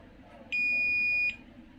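A multimeter on continuity test beeps while probing the circuit board of a Toshiba 32P2400VJ 32-inch LED TV. A single loud, steady high-pitched beep lasts under a second over a quiet background hum.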